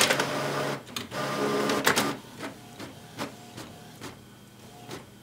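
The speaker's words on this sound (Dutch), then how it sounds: "Wat hier op je telefoon staat, ja, komt even later via de cloud uit deze printer." A Canon PIXMA MG6350 inkjet printer at work, its mechanism whirring and clicking in a series of short rhythmic pulses and carriage passes, close and fairly loud, with no talking over it.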